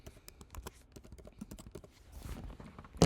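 Fingers tap rapidly on a computer keyboard, close and crisp, in uneven bursts of keystrokes during a sign-in, with no talking.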